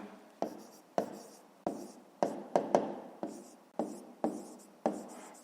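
A pen taps and scratches on paper while writing down a maths exercise answer, about ten sharp strokes in an irregular rhythm, close and quiet with no talk.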